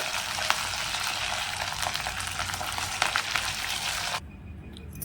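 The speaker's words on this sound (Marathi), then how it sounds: "दुसरी बॅच सुद्धा आहे ना तळून घेते व्यवस्थित" Crispy fasting-style vadas deep-fry in hot oil with a dense, steady crackling sizzle up close, which cuts off abruptly near the end, leaving only a faint background hum.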